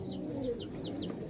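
High-flying pet pigeons kept on a rooftop coo faintly in a short run of soft repeated calls over a low background hum.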